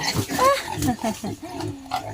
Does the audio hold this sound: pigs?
yes